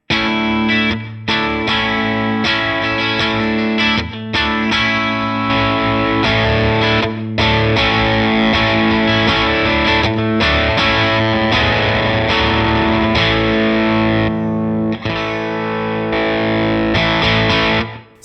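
Electric guitar fed through a POD Go with a mid-boosting EQ stage slamming the front end of a tube amp model, giving thick, saturated overdriven chords and riffs, loud and continuous with a few brief gaps.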